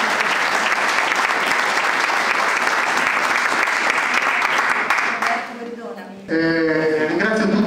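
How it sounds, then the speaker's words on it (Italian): A crowd applauds loudly and steadily at a Red Cross celebration in an Olgiate square, the clapping briefly thinning before a voice speaks over the renewed applause near the end. "Quindi ci vuole un applauso"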